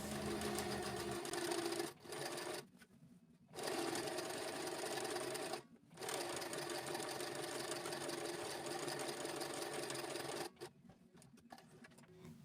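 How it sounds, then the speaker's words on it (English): An Empisal Expression sewing machine stitches rows of gathering through fabric, running in long steady bursts with a few brief pauses between them. "And now we are done stitching."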